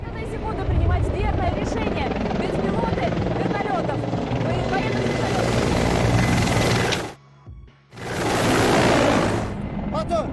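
A helicopter flies very close overhead, its loud, throbbing rotor wash roaring near, dropping out briefly and then returning, with voices faint beneath.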